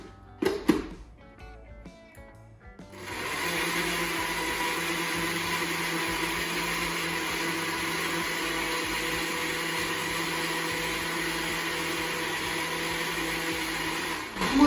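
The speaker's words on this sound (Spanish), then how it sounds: "queso, que puede ser queso crema o puede ser queso doble crema, y azúcar, y lo vamos a licuar muy bien" A blender purées cream cheese or double-cream cheese with sugar, vanilla and other ingredients for cajeta flan. After a few clinks, the motor starts and roars at a steady, even pitch for more than ten seconds.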